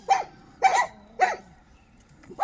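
Dogs at a crowded shelter bark in three sharp, evenly spaced bursts, each a pair of quick barks, followed after a pause by a fainter fourth starting; fairly close and alone without talk.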